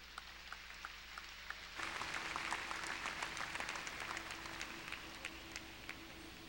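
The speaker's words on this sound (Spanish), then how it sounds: "Denle un aplauso al Señor en esta tarde" A church congregation breaks into applause during a Spanish-language service, a sudden swell of steady clapping from a crowd after a quieter, hum-filled room.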